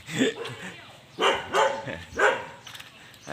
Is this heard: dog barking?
yes